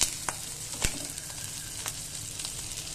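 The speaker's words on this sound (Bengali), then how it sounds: "এখন এটা আমার ভাজা শেষ, মাছের ডিমটা কেমন ভাজতে সুন্দর হয়েছে।" Baim fish eggs frying in a pan give a steady soft sizzle with faint crackles and a few sharp stirring taps, close and fairly quiet.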